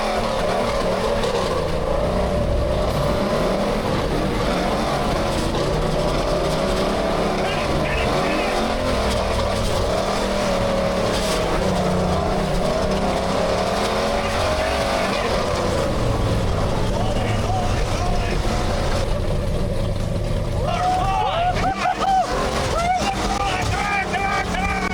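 A big-block Ford F-150 truck does donuts, its engine revving and roaring continuously and loudly with rising and falling pitch, and a voice speaks over it.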